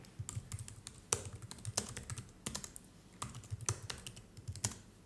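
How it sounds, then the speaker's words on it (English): Keys clack on a computer keyboard in irregular quick bursts of typing, close and fairly quiet, with no voices. "Let me type this for you."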